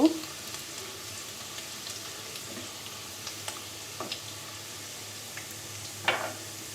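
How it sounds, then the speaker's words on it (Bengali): Garlic frying in oil as a tempering for olive chutney, a soft, fairly quiet sizzle with scattered small pops and ticks, one louder spatter near the end. "তেলে দিয়ে দেবো ফোড়ন তো রসুনটাকে বন্ধুরা একটু ভেজে নেব"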